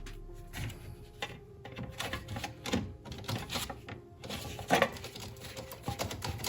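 A ratchet with a Torx socket attachment drives T25 screws while fitting an air intake on a 2011-style MK6 VW Jetta 1.8T, giving quick close irregular clicks and ticks with no talk.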